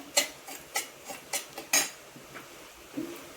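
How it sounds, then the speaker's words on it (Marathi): Semolina (rava) dry-roasting in a pan, stirred with a metal spoon: a series of sharp scraping clinks roughly every half second, fairly close and clear, with no voices. "मी अगोदर रवा थोडासा भाजून घेते, जास्त नाही भाजायचा, थोडासा भाजून घ्यायचा"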